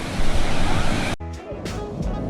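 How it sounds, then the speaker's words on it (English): Steady loud rushing water roar of a waterfall on the Road to Hana, Maui, fills the clip, abruptly dropping to a quieter wash partway through. "you can't pass up swimming by a waterfall"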